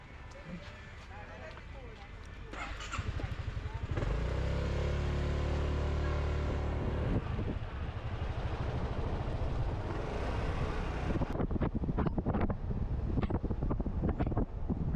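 A motorbike rides through Pattaya with steady wind roar buffeting the microphone throughout, while someone talks over the rushing air.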